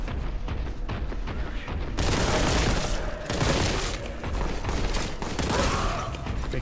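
Bolt gun fire in a video game, upgraded from the standard version, plays as a dense rapid burst of shots and booms that holds at steady loudness, with no one speaking.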